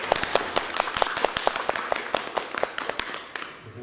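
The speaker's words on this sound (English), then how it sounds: "So let's give Jay a big round of applause." An audience at a speaker series event claps for a live streamer, a sparse, rhythmic patter of a few nearby hands that thins out and fades toward the end.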